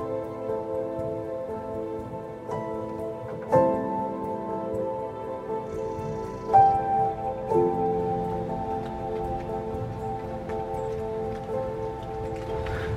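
Steady rain pattering on surfaces outdoors on a colourful autumn day in Pennsylvania, a continuous soft patter with a few louder drips and knocks, no one talking.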